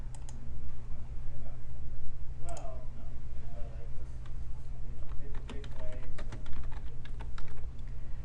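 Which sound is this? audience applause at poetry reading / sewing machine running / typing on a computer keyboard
typing on a computer keyboard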